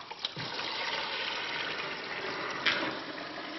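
Water swirls and drains out of a vessel through an opened vent, forming a vortex, with a steady rushing trickle close by.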